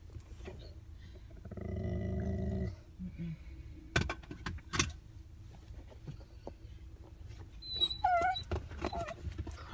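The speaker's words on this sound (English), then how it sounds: "Lucky, don't bark!" Dog barking at a birthday parade, a few loud sharp barks standing out near and brief amid outdoor noise, with a sustained engine-like drone early on and people talking around it.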